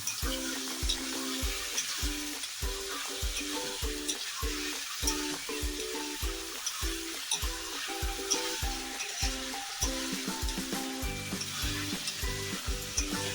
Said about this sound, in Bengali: চিকেনটা দেওয়ার পর পেঁয়াজ এবং মশলাগুলির সাথে চিকেনটাকে ভালো করে খুন্তি দিয়ে নাড়াতে শুরু করলাম।